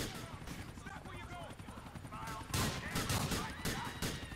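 An intense exchange of gunfire in the video game GTA IV during a police patrol, with bursts of shots growing louder and denser toward the end, mixed with voices and game noise.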